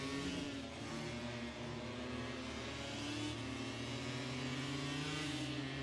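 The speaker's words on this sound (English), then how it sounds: "Yeah, the engine is running." MotoGP motorcycle engine running steadily at Sepang, recorded onboard; a continuous mid-pitched drone with layered harmonics and wind noise, holding fairly constant and loud with no speech.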